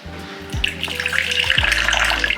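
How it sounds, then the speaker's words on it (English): About 30 ml of water is poured into whole wheat bread dough, making a steady, close trickling splash over a low background hum, with no talking. "Now we're just going to be adding another 30 ml of water"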